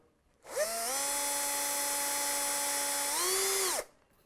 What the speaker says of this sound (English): position your drill,